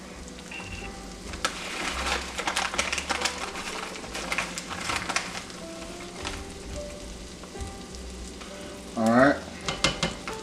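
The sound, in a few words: flour being stirred into hot fat to build a roux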